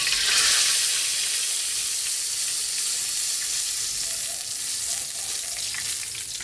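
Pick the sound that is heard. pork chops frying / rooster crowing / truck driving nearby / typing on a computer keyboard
pork chops frying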